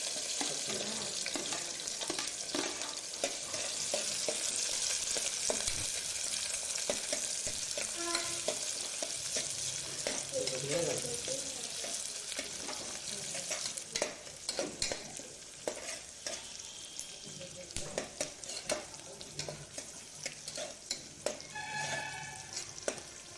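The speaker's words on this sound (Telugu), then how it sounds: "దాంట్లో కట్ చేసుకున్న ఉల్లిపాయ ముక్కలు, పచ్చిమిర్చి ముక్కలు వేసి వేయించుకోవాలి." Chopped onions and green chillies fry in oil in a pressure cooker, a steady close sizzle with occasional stirring scrapes and clinks throughout.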